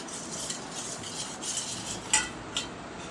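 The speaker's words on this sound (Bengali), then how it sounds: "সেই টক দই আমি এখন এর মধ্যে অল্প অল্প করে দিয়ে মিক্সড করে নেব" Homemade sour yogurt being stirred a little at a time into a bowl of milk, a spoon scraping and swirling steadily, with two sharper clinks against the container near the end.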